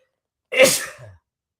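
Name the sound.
sneeze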